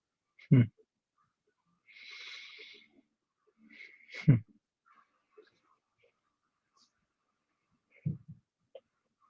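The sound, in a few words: dog snoring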